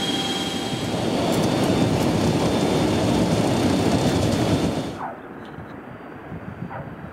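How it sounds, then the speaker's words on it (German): Aircraft on landing approach, a loud, steady roar of engines and airflow heard from close by, which drops abruptly to a quieter hum about two-thirds of the way through; no speech. "Der Landeanflug beginnt."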